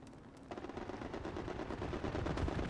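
Enemy machine gun bursts in the tactical shooter Hell Let Loose: a fast, continuous rattle of shots keeps going after a short quiet start, loud and sustained without a break.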